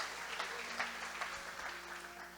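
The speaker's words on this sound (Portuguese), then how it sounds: "aplauda bem forte ao Senhor" Church congregation applauding at a worship service, fairly faint and diffuse clapping with a low steady hum beneath, no clear voices.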